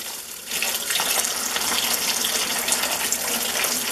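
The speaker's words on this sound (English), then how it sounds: "Now we can just rinse it, and you can see how there's still some more seeds to be separated from pulp." Pumpkin seeds are rinsed under a running kitchen tap, giving a steady, close hiss of splashing water that starts softer and then swells to a full, constant stream for a few seconds.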